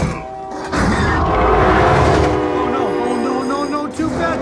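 A diesel locomotive horn, the SD70MAC's K5LA five-chime, blares loud and sustained over rumbling rail noise and clattering during a subway car crash scene, with brief voices mixed in.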